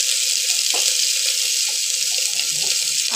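Carrot, papaya and potato pieces fry in a pan for chicken stew and are stirred around. A loud, steady sizzle fills the whole stretch, with soft scraping as the vegetables are moved.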